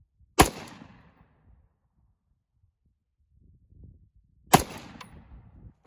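Two sharp, loud rifle shots from an FN FS2000 fired freestanding at a range toward a 175-yard target, spaced about four seconds apart, each with a short fading echo.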